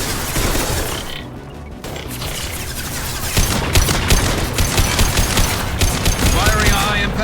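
High-impact weapon fire in Mass Effect 2 Legendary Edition on Insanity difficulty, with a dense clatter of shots, crashes and mechanical clanks, quieter briefly before loud repeated blasts resume; a voice talks at times.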